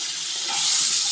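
Papaya pieces fry in a pan with a steady, bright hiss of sizzling oil that swells slightly partway through, heard close with no talking.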